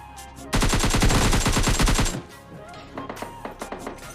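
AKM assault rifle fire in PUBG Mobile Lite, a loud rapid automatic burst of about a dozen evenly spaced shots lasting over a second, followed by quieter scattered in-game clatter.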